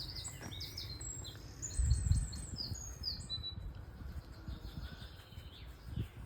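Several birds chirp and trill high overhead in a quiet outdoor setting, with soft low rumbles and rustling underneath.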